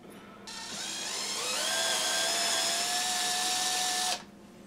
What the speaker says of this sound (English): 3/32 of an inch drilled it